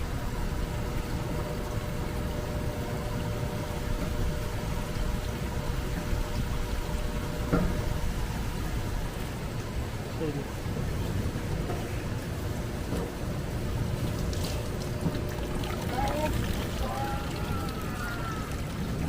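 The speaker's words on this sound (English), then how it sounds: "Now it spins and drips." An evaporative swamp cooler with spider-style water manifolds spins and drips steadily. A constant whooshing, splashing wash runs throughout, with faint trickles and occasional clicks, while a voice talks softly at times.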